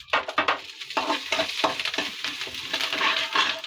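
Green chillies, dried red chillies and curry leaves sizzling and crackling in hot oil in a pan for kazhani rasam, with bursts of spitting and stirring clatter close up.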